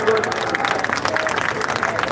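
A crowd at a BNP political rally claps together, a dense, loud wash of applause, with an amplified voice speaking over it.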